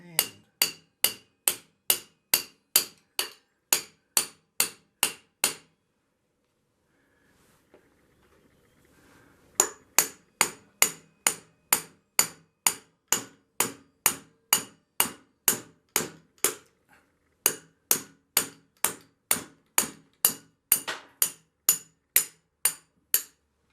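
An aluminum drift is struck repeatedly with a hammer against motorcycle forks on a Yamaha TDub, sharp metallic blows in fast, even bursts of about a dozen hits, a short pause, then two more rapid series, close and loud.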